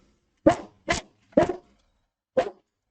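A house dog barks at a FedEx delivery truck arriving: four sharp, close barks in an uneven rhythm, with short silent gaps between them and no talking.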